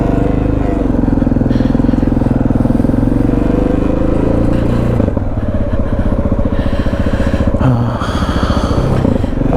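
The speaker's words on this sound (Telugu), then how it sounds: "ఇప్పుడు ఇంజన్ కూల్ అయిపోయిన తర్వాత స్పీడ్గా బాగానే పోతుంది" A motorcycle just back from a costly repair rides along a main road, its engine droning loudly and continuously up close with steady rumbling throughout.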